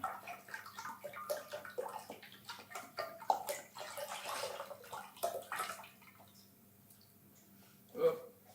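One litre of milk pouring into a bowl in a home kitchen, a soft splashing, gurgling stream for several seconds that fades away, followed by a brief clink near the end.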